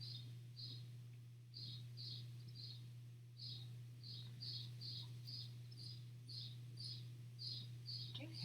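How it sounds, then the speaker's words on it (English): A bird sings outside, heard faintly indoors as repeated short high chirps in irregular clusters over a steady low electrical hum. "Do you hear that bird?"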